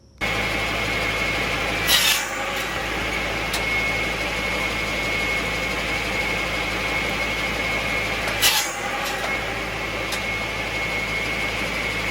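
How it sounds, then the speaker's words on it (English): A tractor engine drones throughout at constant loud level while powering a Balfour Samurai 700 buzz saw cutting ash firewood, with two brief louder rattling bursts along the way and no talking. "My mic wasn't working with the sound of the tractor."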